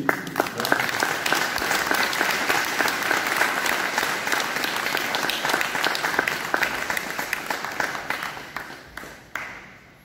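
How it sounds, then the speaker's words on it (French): A crowd applauds an artist at a company facility inauguration in Montmirail, giving loud, sustained clapping with a few sharper individual claps, tapering off near the end. "Je voudrais que l'artiste, vous puissiez l'applaudir aussi"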